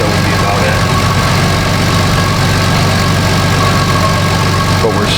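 A 2005 Chevy Equinox 3.4 V6 idles rich with a suspected bad mass airflow sensor, a loud steady low rumble with constant mechanical hum, heard close up without pause.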